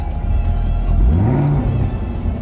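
A 650-horsepower Chevrolet Camaro ZL1 engine idles loudly, then revs up with a rising growl that peaks and settles back into a steady rumble, close by.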